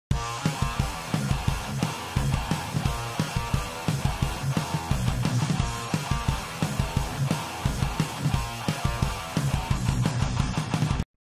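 Heavily distorted, buzzy metal guitar riff with HM2-style distortion, chugging palm-muted rhythms and driving drums, loud and continuous throughout.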